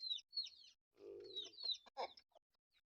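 A young rooster, a native stag chicken, clucking in a yard, a short run of high chirpy calls and throaty clucks, close and fairly quiet with nothing else around.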